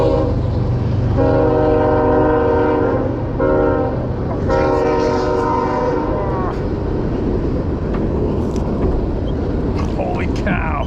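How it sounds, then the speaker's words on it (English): A train rolls loudly past near a river, its horn blaring in long held blasts over a constant heavy rumble and rattle of the cars, with people talking briefly near the end. "I gotta see a train coming through."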